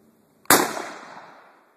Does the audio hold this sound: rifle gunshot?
yes